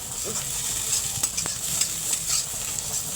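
Potatoes fry in a pan under a soft, continuous sizzle, broken by quick scraping stirs and light clatters of the spatula against the pan.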